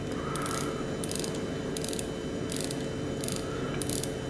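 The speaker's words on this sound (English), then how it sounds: "It's got a beautiful bezel action." A rotating dive-watch bezel on an automatic watch ratchets in quick, crisp clicks in a few short bursts, close and alone.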